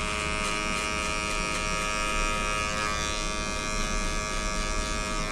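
Electric hair clipper cutting a fade with no guard, a steady close buzz running continuously throughout, with no talking.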